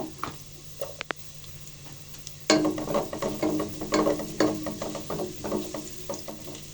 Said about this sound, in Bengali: তো রসুন কুচিটা সামান্য একটু ভেজে নিব